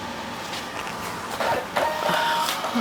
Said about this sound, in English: there we're going to print our label